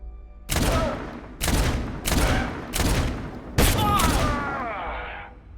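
Gunfire in the video game Abiotic Factor: five dense, loud bursts of automatic shots at roughly one-second intervals, the last trailing into a rattling, whooshing decay.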